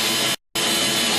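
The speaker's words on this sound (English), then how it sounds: "drill a 1/2 inch hole somewhere in the center of the rough opening where you will be cutting" A power drill boring a half-inch hole in a surface for a rough opening: a loud, steady high whine that cuts out briefly, then resumes at full level.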